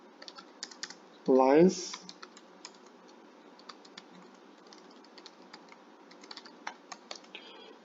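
Soft, rapid keystrokes on a computer keyboard sound close and faint throughout, an irregular patter of clicks, with a short spoken word near the start.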